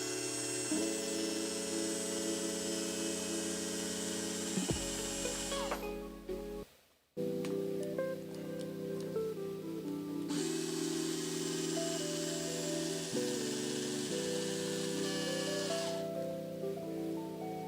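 A small electric drill whines steadily and loudly while working on a GameCube controller, with stepped pitch changes as it speeds up and slows, a brief dropout near the middle, then resumes running continuously.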